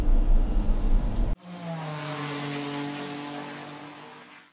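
A Peugeot 5008 1.2 hybrid's petrol engine cuts in while driving on electric power: after a noisy first second, the sound shifts abruptly to a steady, tonal engine hum that slowly eases.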